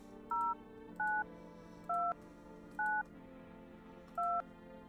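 Five evenly spaced dual-tone keypad beeps from an old-school telephone in the video game No, I'm Not a Human, clear and moderately loud over a soft background hum.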